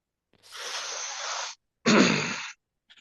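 A single loud, close sneeze with a drawn-out breathy intake followed by a sharp explosive burst, then silence.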